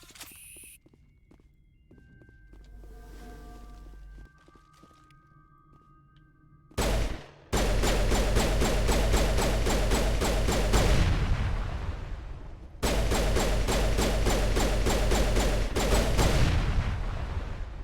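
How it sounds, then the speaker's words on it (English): Pistol fire in a video game, rapid bursts of close, loud shots in two long volleys after a quieter stretch of game ambience and tones. "I prefer the sound of my pistol at the moment"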